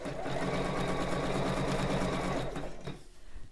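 A sewing machine runs steadily, stitching elastic onto bra fabric, a close, continuous motor whir with rapid needle rhythm that slows and stops near the end.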